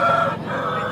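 A white-legged rooster of a well-marked fighting breed at a rooster market crows loudly and close by, one sustained harmonic call filling the whole moment with no talk over it.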